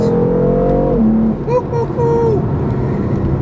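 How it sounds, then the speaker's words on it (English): A loud, close 2015 BMW M4 engine roars and revs on twisty roads, its pitch shifting as the exhaust drones on without a break. "And that exhaust is now much louder than it was in just normal comfort mode."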